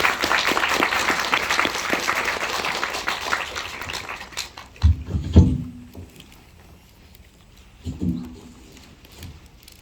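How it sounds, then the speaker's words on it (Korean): An audience at a film screening Q&A in Art Nine cinema claps warmly to welcome the director, a dense burst of applause that fades after about four seconds, followed by a few muffled thumps and handling sounds. "열렬한 박수로 맞이해 주십시오."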